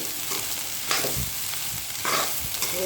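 Okra tossed into roasted masala paste sizzles and fries in a hot pan, with a few scraping stirs of a spoon breaking through the steady close crackle; no voices.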